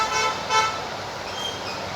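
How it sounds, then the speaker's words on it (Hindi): Car horns toot outside over a steady hum of road traffic, heard from inside a bedroom, one short honk standing out near the start. "पीछे से हॉर्न की आवाज़ें भी आ रही होंगी,"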